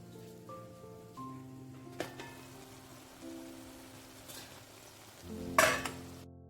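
Tomatoes cook in a covered pan with a soft, steady sizzle and faint scraping as they are stirred, under a low hum; a louder clatter near the end suggests the lid being moved.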